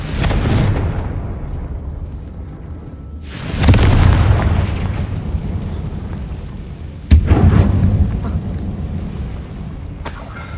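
The Confringo blasting spell in Hogwarts Legacy sets off three deep, booming explosions, each with a sharp crack and a long rumbling tail, loud and close, with no talk over them.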